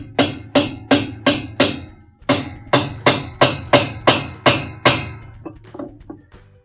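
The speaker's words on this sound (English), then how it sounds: "We'll grab our wrench and tighten it clockwise" A wrench tightens a spanner nut on a washing machine agitator during a gearcase oil seal repair, giving a series of about a dozen sharp metallic clanks in a steady rhythm, close and alone, trailing off into lighter taps.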